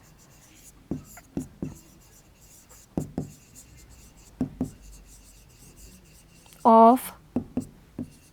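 Pen strokes and scratching rub against paper in short bursts while a prime factorization is written out in a maths lesson, with a brief louder tonal squeak near the end and quiet speech.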